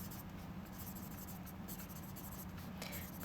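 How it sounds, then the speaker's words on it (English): Pen scratching out handwritten notes on paper at a craft desk, a steady soft scribble of short strokes that stays faint and close, with no talking over it. "I'm going to write that down"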